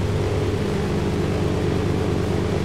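A propeller airplane in the Arma II DayZ mod drones steadily at close range, a loud continuous engine hum that fills the whole stretch without any talk.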